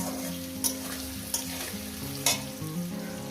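Potatoes frying in a pan until reddish, a steady close sizzle with a few sharp scraping stirs of the spatula and no voices.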